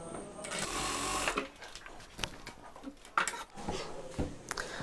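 A sewing machine stitches a kameez neckline in loud, rapid bursts of mechanical whirring, stopping and starting with short pauses and a few clicks in between, close to the listener.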